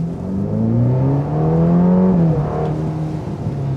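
A Ferrari engine revs up under acceleration in wet mode at a motor festival, a loud, steady harmonic roar whose pitch climbs and then eases off.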